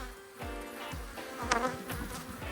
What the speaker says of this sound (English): these bees are very unhappy with me